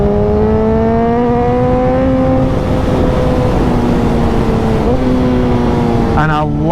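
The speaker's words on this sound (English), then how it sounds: "And I love the downshift." A high-performance motorcycle engine on an open road, a loud steady drone with clear harmonic tones that step down through downshifts, blipping briefly near the end, under constant wind rush.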